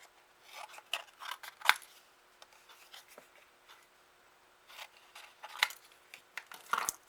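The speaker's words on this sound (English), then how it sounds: "let me trim this so we can trim some of this off" Paper being trimmed for a window easel card, heard as quiet, close snips and crisp rustling in irregular bursts with pauses.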